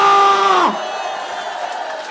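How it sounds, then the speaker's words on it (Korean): Supporters at a presidential campaign rally in Yangsan, South Korea, roar and cheer loudly for about half a second before the noise drops to a lower, steady crowd murmur. "2 1대 대통령 김문수 후보님께 다시 한 번 큰 박수 부탁드리겠습니다"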